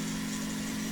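A vehicle's engine and motor run steadily in the Gear Blocks building game, a constant mid-pitched mechanical hum with an even drone and no change in speed, no talk.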